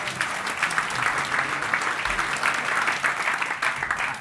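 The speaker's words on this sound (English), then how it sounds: "How about a round of applause to the gentleman in the back?" A room of conference attendees applauding a gentleman at the back of the audience, steady dense clapping at moderate level throughout, with no talk over it.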